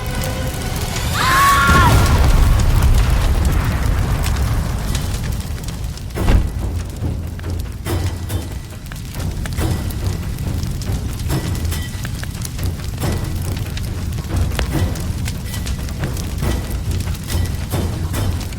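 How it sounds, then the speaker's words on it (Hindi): A deep rumbling boom swells early, followed by a long crackling, roaring wash like a large fire burning, with scattered pops and thuds. "इतना बड़ा धमाका हुआ है, चारों तरफ आग लग गई है"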